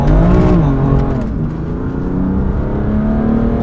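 BMW M4 Competition launching hard on launch control from a held 3,000 RPM: a loud, close engine roar that climbs in pitch, dips briefly at a quick upshift, then keeps pulling steadily.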